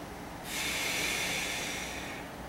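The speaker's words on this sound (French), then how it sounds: "Et là, vous soufflez doucement." A slow, gentle exhalation during a guided breathing exercise for stress relief, a soft steady breathy hiss of about two seconds, close and alone with no talk over it.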